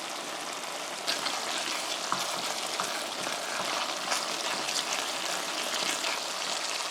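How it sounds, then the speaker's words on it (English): Tomato paste and a beef mixture cook in a pan with a steady, even sizzling hiss that runs unbroken throughout, with no one speaking. "we're going to let that cook with some of the juices from the beef mixture"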